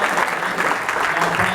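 A short burst of applause from a crowd at a sales training event, dense clapping at a steady loud level for about a second and a half, with voices mixed in beneath.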